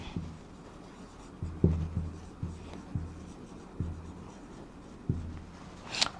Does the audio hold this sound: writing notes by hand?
yes